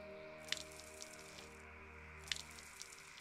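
Crops being watered in the medieval farming sim Mirthwood: two soft, brief splashy drips about two seconds apart, faint over a steady low game music hum.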